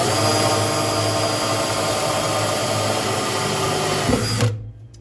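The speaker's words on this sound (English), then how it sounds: "So we'll go ahead and drill both these holes" A loud, steady whine of a power drill running continuously for several seconds through vintage sheet metal on a 1955 Ford Fairlane, then slowing and cutting off near the end.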